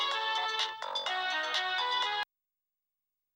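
A bright electronic phone ringtone plays a short tinkling melody, loud and close, then cuts off abruptly into silence.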